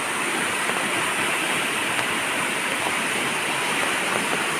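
Fast-flowing floodwater rushes in a dense, unbroken roar, loud and close, with no talking over it.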